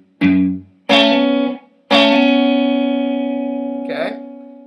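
Distorted electric guitar plays three separate notes from a riff, including a hammer-on, the last one sustaining long and ringing out, with a fluttering slide near the end.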